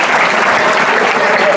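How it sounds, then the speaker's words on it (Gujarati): Students applauding in a high school classroom in Bhuj, a dense, loud burst of steady clapping throughout. "વેરી ગુડ, તાળી પાડો."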